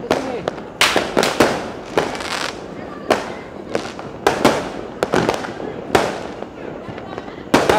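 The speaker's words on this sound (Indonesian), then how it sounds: "Petasan menggema di seluruh Kota Makassar." Firecrackers and fireworks burst across Makassar on New Year's Eve, with sharp, loud cracks and pops arriving irregularly from both near and far over a continuous background rumble, and voices mixed in.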